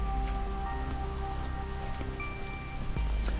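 Rain falls steadily with a dense, even patter on surfaces outdoors, joined by a faint tonal hum and occasional sharper drips, with no voices over it.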